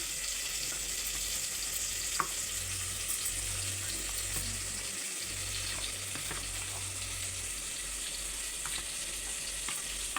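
Mutton pieces with chili powder, turmeric and salt frying in a pressure cooker for mutton pulao, a steady hissing sizzle with occasional stirring clinks, close and continuous without talk.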